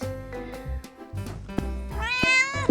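A cat meows in a few short calls, with one longer, rising, strained cry near the end, close and fairly loud indoors at a home where babies are being looked after.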